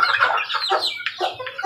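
A young fighting rooster clucks repeatedly at close range, a quick series of short, throaty calls with a low rumble underneath.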